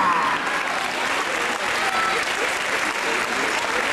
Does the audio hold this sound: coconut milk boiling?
no